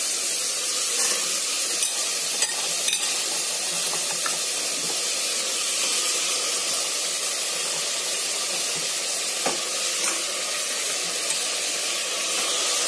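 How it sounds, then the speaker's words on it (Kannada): Avarekalu with brinjal and potato fry in a pan, giving a steady, loud sizzling hiss throughout, broken by a few faint clicks of stirring and no talking. "ಅವರೆಕಾಳು ಹಾಕಿ ಬದನೆಕಾಯಿ ಮತ್ತೆ ಆಲೂಗಡ್ಡೆನ ಸ್ವಲ್ಪ ಫ್ರೈ ಮಾಡ್ಕೊಳ್ಳೋಣ"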